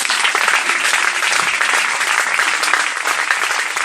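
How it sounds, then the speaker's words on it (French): Dense, steady applause from a large church congregation, sustained loud clapping that fills the space for a few seconds with no speech on top. "Acclamons pour le Seigneur."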